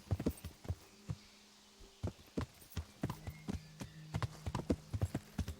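Horse hooves clip-clop at a steady walking pace in the medieval game Kingdom Come: Deliverance, sharp close impacts with a low droning tone running underneath.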